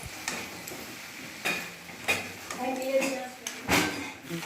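Crab pieces being mixed with fried potatoes and tomato in a pan, with several distinct scraping and knocking strokes of a spoon against metal, close and moderately loud, while a voice talks.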